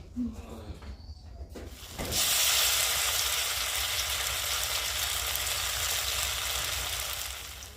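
Mushroom pakoras drop into hot oil with a sudden loud sizzle, which then settles into a steady, dense crackling hiss that continues to the end.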